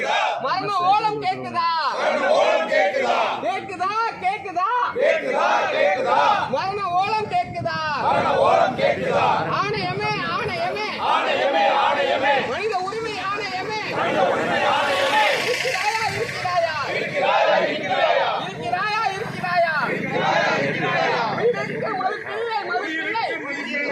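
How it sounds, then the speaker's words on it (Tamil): A large crowd at a protest demonstration by social welfare groups shouts and chants continuously, voices overlapping in a loud, dense roar that swells at times. "சமூக நல இயக்கங்கள் சார்பில் ஆர்ப்பாட்டம் நடைபெற்றது"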